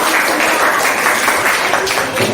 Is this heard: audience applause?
yes